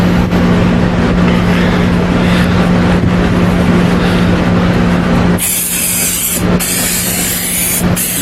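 Brake cleaner from an aerosol can is sprayed onto car rims, a sharp, close hiss in short bursts after a stretch of steady background rumble.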